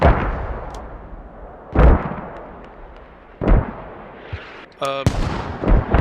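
Mortar fire in the tactical shooter Squad during a tournament match: several heavy booming blasts spaced a couple of seconds apart over a rumbling background, with a sharp burst of gunfire near the end.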